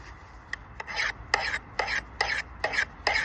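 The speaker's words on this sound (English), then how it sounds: "That's all you need to do to sharpen an axe." A file rasping along an axe blade in seven or eight regular strokes, each a short gritty scrape with brief pauses between, close and fairly quiet, with no voices over it.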